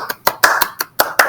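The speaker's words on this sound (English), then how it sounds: "Round of applause." Seven sharp hand claps by one person in a steady rhythm, close and clear, with no talk over them.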